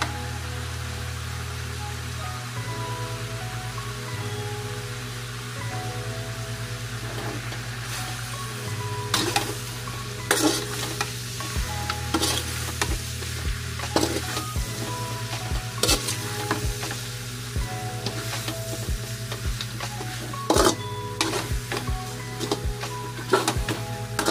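Meat sizzling in soy sauce in a pan for humba, a continuous close sizzle and hiss with frequent scraping and clinking stirring strokes that grow busier midway, and no voices.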